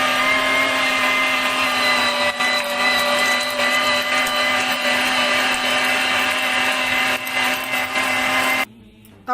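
A Smart electric meat grinder motor runs in reverse to free meat jammed inside, giving a loud, steady whirring whine that holds for about eight seconds before cutting off abruptly near the end.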